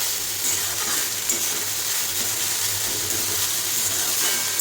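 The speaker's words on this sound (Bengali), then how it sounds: "এটা ভাজা ভাজা হোক" Greens and chopped green chilli fry in a pan for a jackfruit and prawn dish, giving a steady, close, broadband sizzle with faint stirring throughout and no talk.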